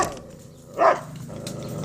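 A big dog lets out a single loud, close bark after a stretch of quiet, then low rumbling background noise continues.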